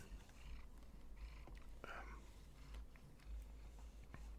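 A pet cat purring nearby, a soft continuous low rumble that runs through the whole stretch, with faint rustling and small handling noises over it.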